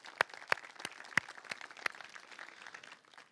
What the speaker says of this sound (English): So a huge round of applause for all of our sponsors.